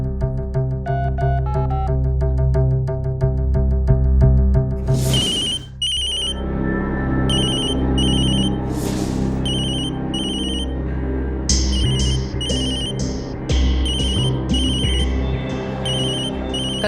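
A phone rings indoors with a loud electronic ringtone, a melodic tone pattern that repeats in bursts, close and clear with no talking.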